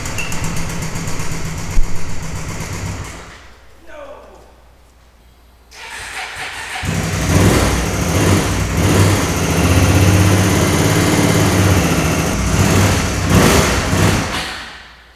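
A Suzuki V-Strom motorcycle engine runs, dies down, then catches again and settles into a loud, steady idle that revs up at moments, recorded close by.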